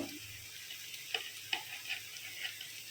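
Onion and dry spices frying in oil for a koi fish curry, a soft continuous sizzle with a few light ticks of a spoon against the pan, close and quiet, no voices.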